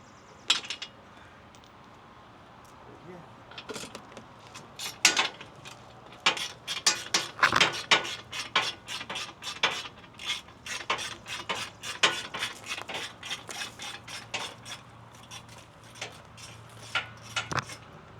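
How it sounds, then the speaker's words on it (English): A ratchet turns out bolts from a truck bumper, giving bursts of rapid metallic clicking with clinks and scrapes of tools, close by, in irregular runs of activity separated by short pauses. "Let's get these two other little bolts out."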